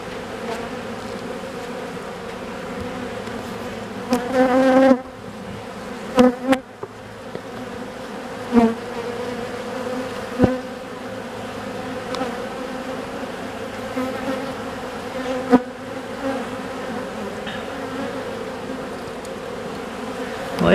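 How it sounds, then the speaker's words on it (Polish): Honeybees buzz steadily and closely around an open wooden hive during a frame inspection, a dense continuous hum with a few brief handling knocks and clicks on top, no talking. "tych pszczół jest dość dużo w ulu."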